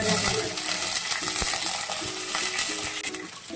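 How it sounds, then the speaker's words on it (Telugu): Chopped onions and curry leaves fry in a pan with a loud, dense, continuous sizzle and crackle, broken by occasional spatula scrapes; no one speaks. "ఆల్రెడీ కట్ చేసుకున్న ఆనియన్ సో ఇలా ఫ్రై అవుతుంటుంది అనమాట"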